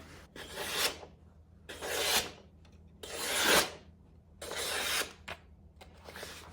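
Rough rasping strokes of a file dragged across a knife edge to remove the burr, four long, loud strokes in a steady back-and-forth rhythm with short pauses between, close up and with no talking.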